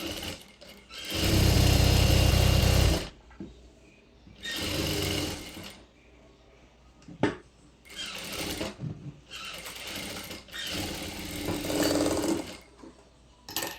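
Sewing machine stitching palazzo pants in several loud, close whirring runs, some a few seconds long, separated by quiet gaps with faint handling clicks.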